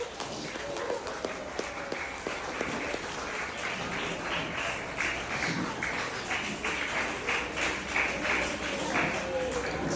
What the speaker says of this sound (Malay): Berikan tepukan untuk semua guru di SK Temalang.